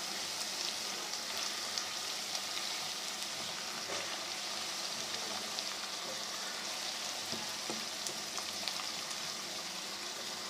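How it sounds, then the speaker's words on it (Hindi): Minced meat and onions frying in a pan, a soft continuous sizzle with faint crackles and occasional stirring, fairly quiet and close, with no talking. "अब हम इसको थोड़ा सा भूनेंगे।"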